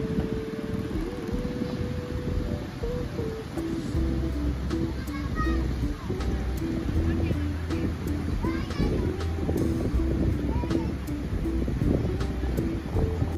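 Strong wind buffeting the microphone at a beach in Kelantan, a steady rushing roar throughout, with people and children chatting and playing underneath and faint surf in the background.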